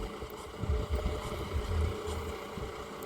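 A tractor ploughs deep furrows in a banana field, its engine a steady low rumble with uneven throbbing pulses and light wind noise over the microphone, no speech.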